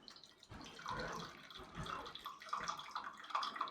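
Chai is poured over two or three ice cubes in a glass, a short splashing pour that gurgles and trickles at close range for a few seconds with no voice over it.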